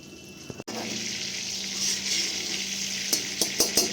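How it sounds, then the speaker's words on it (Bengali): Butter melting in a wok sizzles with a steady, close hiss, broken by a few sharp metallic clinks and taps toward the end. "এরপর এই কড়াইয়ের মধ্যে আমি দিয়ে দেবো আর একটু বাটার।"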